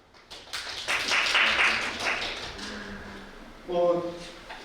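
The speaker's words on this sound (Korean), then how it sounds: "큰 박수로 맞아주시기 바랍니다" An audience at a science lecture claps to welcome a speaker, a swell of applause rising and fading under a host's voice, then a voice speaking alone near the end.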